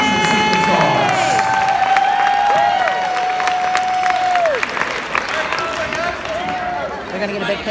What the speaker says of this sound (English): take a huge round of applause for all of our new wrestlers